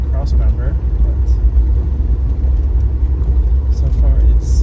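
Classic car plowing through road snow in a blizzard, a heavy continuous low rumble from the car with scattered soft thumps and scrapes, and a faint voice at moments.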